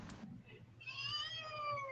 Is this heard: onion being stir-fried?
no